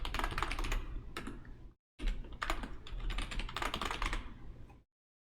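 Rapid, dense keystrokes clatter close on a computer keyboard in two steady bursts separated by a brief pause, then stop abruptly.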